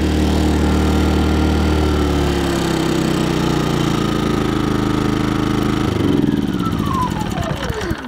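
A Cromtech Outback 2.4kW petrol inverter generator runs loud and close with a steady engine drone, then its pitch shifts and winds down as the revs drop.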